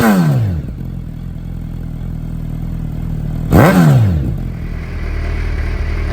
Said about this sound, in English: Let's hear that Brock's Performance rumble.